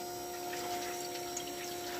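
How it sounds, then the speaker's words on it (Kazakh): Water flows from a car heater radiator return hose during flushing, a faint steady trickling rush over a constant pump-like hum. "Обратка су ағады."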